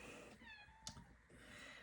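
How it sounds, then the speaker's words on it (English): An indoor cat gives a single faint meow in a quiet room, short and rising, heard alone over low background hiss. "Cats are in the room, so if you hear any meowing or fighting, that's what it is."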